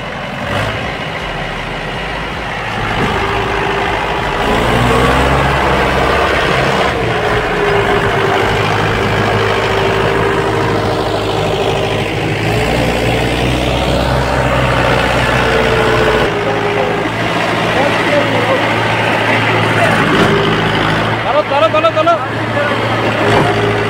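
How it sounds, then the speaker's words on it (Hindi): A tractor engine labours while pulling a trolley stuck in the ground, a loud continuous low drone that rises and settles as the load shifts, with people talking over it throughout. "ट्रैक्टर उठ रहा है आगे से"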